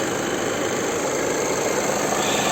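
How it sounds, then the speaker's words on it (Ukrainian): Cooling fans whirring steadily on a 2012 VW Touran Highline 2.0 TDI with the air conditioning running, a constant broadband rush close by with a low engine hum beneath, no talk. "Вентилятори крутяться, тому що в нас робить кондиціонер."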